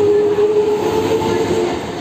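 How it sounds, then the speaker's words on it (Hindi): A local train pulls out of Mambalam station in Chennai with a loud, steady rail rumble and a faint sustained tone throughout, heard close by. "हमारी लोकल ट्रेन निकल चुकी है मामलम से"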